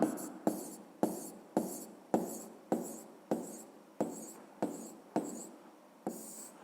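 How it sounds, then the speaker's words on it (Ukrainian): Answer being written down during a physics lesson: a regular series of crisp, close strokes about every half second, each fading quickly, with no speech. "Ну що ж, записуємо тоді відповідь."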